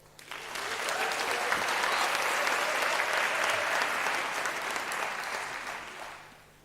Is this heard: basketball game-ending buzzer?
no